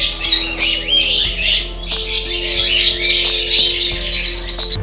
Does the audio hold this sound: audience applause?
no